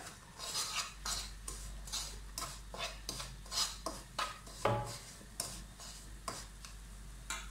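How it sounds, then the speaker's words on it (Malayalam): Semolina is stirred into melted sugar in a pan for rava laddu, with a brisk, regular series of scraping, clinking strokes of a spoon, close and fairly quiet with no voices. "എല്ലാം കൂടി നന്നായിട്ടൊന്ന് ഇളക്കി യോജിപ്പിച്ചെടുക്കണം"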